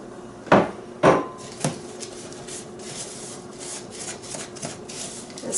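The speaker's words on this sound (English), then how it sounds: "I'm just gonna add 2 tablespoons of butter in that. And we're just gonna get that mixed in real good." A spoon or utensil scrapes and knocks in a bowl, mixing crushed cookies with butter for a strawberry pie crust. Two sharp clunks come early, followed by softer rubbing and scraping, close and without talk.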